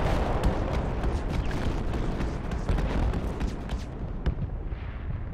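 Mortar rounds from the Project Reality game explode one after another, with dense booming blasts and gunfire-like bursts packed close together. The barrage runs loud and continuous before easing slightly toward the end.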